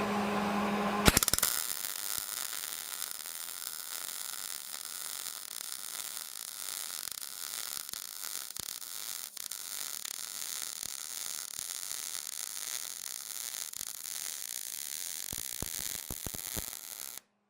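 A MIG welder runs a continuous bead across a gap in metal, giving a steady close crackling buzz and hiss that ends with a few sharp pops.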